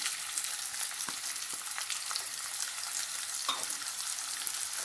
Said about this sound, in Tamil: இப்போ இந்த எண்ணெயில் நான் நுணுக்கிய சோம்பு, வெங்காயம் கருவேப்பிலை கொத்தமல்லி போட்டு வதக்கிக்கிட்டு இருக்கேன்